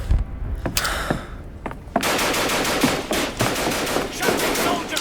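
Sustained machine gun fire from the war video game Ad Infinitum, with sparse bursts at first and then a loud, dense stream of rapid shots close up.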